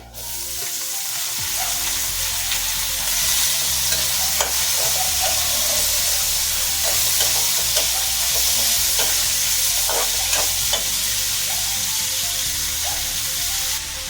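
Steady loud sizzling of boiled cluster bean pieces frying in a pan with tempering spices, with occasional scrapes and clicks of a spatula stirring throughout.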